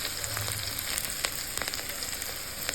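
Onion and green chili frying in a pan make a continuous crackling sizzle with scattered sharp pops, close and fairly even throughout.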